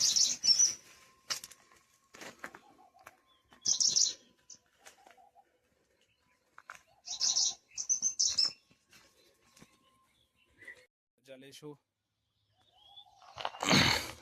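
Birds around a temple's greenery flap their wings in several loud, close bursts, with scattered chirps and calls in between and quiet gaps.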